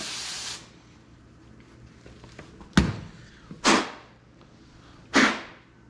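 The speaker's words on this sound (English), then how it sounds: "Hit it with some carb spray again." Carburetor cleaner sprayed into the emulsion tube of a Honda GX engine carburetor, a sharp hissing burst at the start, then three more short loud spray blasts spaced apart in a quiet workshop.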